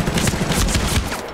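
Rapid automatic gunfire in the multiplayer shooter Medal of Honor: Warfighter, a loud close burst of rattling shots in quick succession with no talk.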